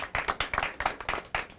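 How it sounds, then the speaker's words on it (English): A small audience at a television talk show claps for a student, giving a thin, uneven patter of separate hand claps in loose bursts at fairly low volume. "Big round of applause to him."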